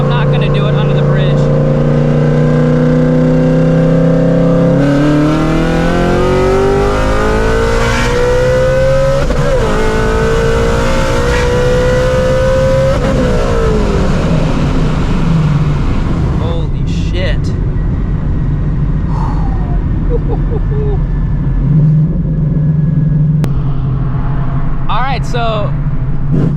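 A supercharged Shelby GT350 accelerates hard, its engine note climbing loudly through several gear changes from inside the cabin. It then eases off into a lower drone, and people talk over it.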